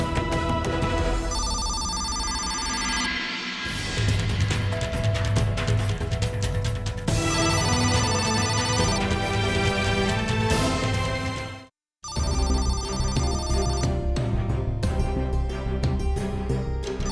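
A mobile phone plays a loud melodic ringtone, sustained and nearly continuous for many seconds, with one brief drop-out partway through and no talking over it.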